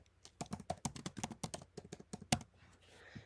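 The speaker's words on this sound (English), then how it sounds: "I just typed in the name of my school" Rapid, uneven clicking of keys on a computer keyboard, about a dozen close-up taps in quick bursts with one harder strike near the end, then quiet.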